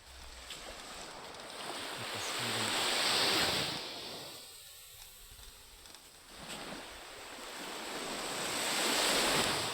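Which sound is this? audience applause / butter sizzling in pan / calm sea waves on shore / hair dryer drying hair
calm sea waves on shore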